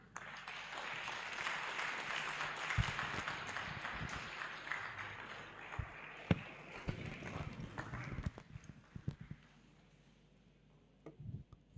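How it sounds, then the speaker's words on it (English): Audience applause after a memorial lecture, a dense clapping that fades into scattered individual claps and then silence, distant and moderately quiet. "That applaud is not enough."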